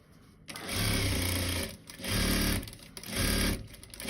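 Sewing machine stitching a zipper onto a fabric pouch, running in three loud bursts of rapid mechanical whirring separated by short pauses, close up.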